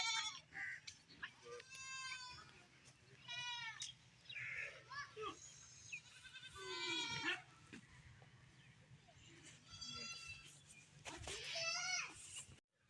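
Goats bleat near a house in a Pakistani village, a series of wavering, repeated cries at moderate distance over a quiet outdoor background, with faint voices now and then.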